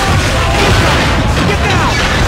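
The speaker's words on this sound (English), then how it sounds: "You hear the incoming whistle of the artillery? The explosion will not be far off." Artillery shell blast in the WWII shooter Call of Duty: Finest Hour, a loud, dense booming burst filling the whole moment amid battlefield noise, with indistinct shouting mixed underneath.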